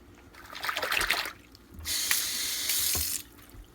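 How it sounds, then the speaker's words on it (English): A kitchen tap runs in two bursts, with hands being washed under the water at the sink while a potato carrot soup is cooked. Each splashing rush is close and lasts about a second and a half, with a short gap between them. "Constantly wash hands whenever I cook."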